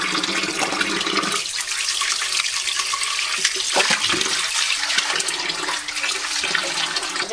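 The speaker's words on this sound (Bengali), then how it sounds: "আম্মু সব মাছ একবারে কেটে দিছে, এখন এই যে আমি ভালো করে ধুয়ে দিই রান্নার জন্য" Tap water runs steadily over freshly cut fish being rinsed for cooking in a home kitchen, a continuous close splashing rush with small shifts as the pieces are handled.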